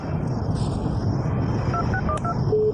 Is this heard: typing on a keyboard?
no